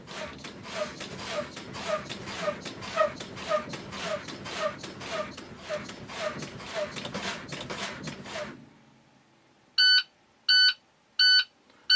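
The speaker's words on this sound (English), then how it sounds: "I'm going to make sure that my low pressure warning light and buzzer activate before I drop below" A school bus low air pressure warning buzzer sounds in three loud, evenly spaced electronic bursts. Before it, a steady run of rhythmic pumping fills the first eight seconds as the brakes are fanned. No one speaks.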